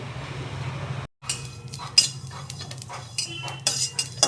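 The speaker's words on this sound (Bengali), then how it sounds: "এটাকে আমি শুকনো খোলায় একটু ভেজে নেব" Fennel seeds and ajwain dry-roasting in a hot pan without oil, with a utensil clinking and scraping against the metal in irregular close bursts after a short pause.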